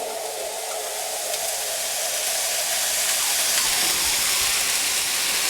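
Onions, garlic and ginger sizzling in hot oil in a home kitchen while fried rice is being made, a steady bright hiss that rises slightly and continues without talk.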